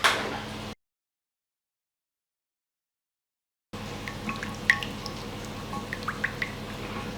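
Hot water runs over lasagne sheets: a short gush of flowing water, then a few seconds of silence, then a steady trickle scattered with small drips and splashes.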